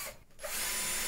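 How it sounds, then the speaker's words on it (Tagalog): A cordless power drill whirs up and runs steadily while driving the first screw of an LED ceiling light into the ceiling, close and loud after a brief quiet start. "ikakabit na natin yung first screw"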